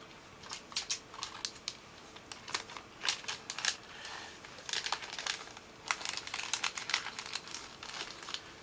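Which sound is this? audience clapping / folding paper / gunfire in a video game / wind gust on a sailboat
folding paper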